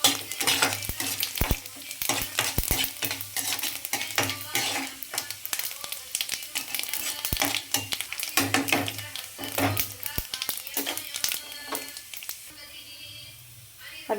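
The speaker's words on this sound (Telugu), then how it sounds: "ఇప్పుడు పోపు దినుసులు వేద్దాం. ఆయిల్ వేడెక్కిపోయింది, అన్నీ కలిపేసి వేసేయచ్చండి." Tempering spices crackle and sizzle in hot oil while a metal spoon scrapes and clinks against the pan in quick irregular strokes, close and busy, settling to a softer fry at the end.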